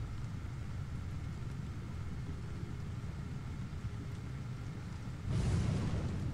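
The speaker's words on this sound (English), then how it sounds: "Also, lightning." Thunder rumbling through a lightning storm in the Don't Starve game: a steady low rumble of rain and storm noise, then a louder, sudden thunder crack near the end.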